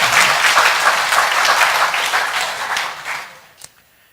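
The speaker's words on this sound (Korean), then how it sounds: "저 박수 치는 거 봐요, 우리 권사님들." Members of a church congregation clap during a Sunday worship service, a dense, loud round of applause that holds steady for about three seconds, then thins out and stops with a final scattered clap.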